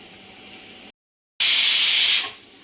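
A stovetop pressure cooker full of black peas (kala vatana) lets off a loud, steady rush of hissing steam for about a second. The hiss cuts off sharply and follows a quieter background.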